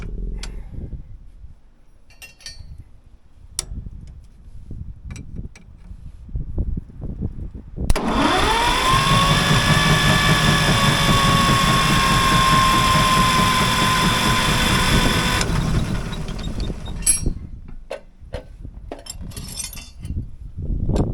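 A Caterpillar D6 bulldozer engine, restarted after ten years of sitting, roars into a loud, steady mechanical drone with a whining tone, runs for several seconds, then cuts out, leaving quieter clanks and rustling around it.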